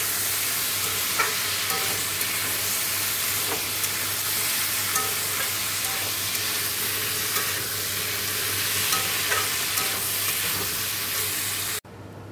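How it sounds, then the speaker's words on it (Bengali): Potato and pointed gourd curry sizzling steadily in a pan as it is stirred, with a continuous loud frying hiss and occasional scraping clicks, no talk. "এইভাবে আলু পটল আমি প্রথম রান্না করছি"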